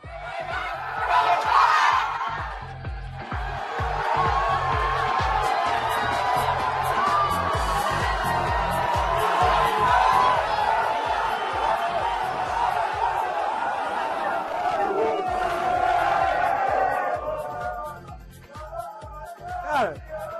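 Roughly 300 Brazilian World Cup fans packed into a London pub, roaring and cheering as one loud, sustained crowd din that fades near the end, with voices shouting throughout.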